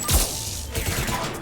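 A grenade goes off in Mass Effect 3, one sharp close blast with a heavy low thump at the start, then a rumbling wash of debris and combat noise that fades slowly.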